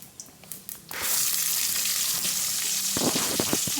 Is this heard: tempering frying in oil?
yes